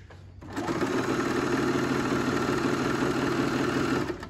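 A Merrylock MK4075 coverlock machine sews a coverstitch, starting after a short pause into a steady, fast mechanical whir that runs evenly without talk.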